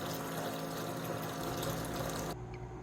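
Beer wort flows out of a Brewzilla into a fermenter for a homebrewed American amber ale, a steady rushing, pump-like liquid hiss that holds even and close, then drops to a thinner trickle near the end.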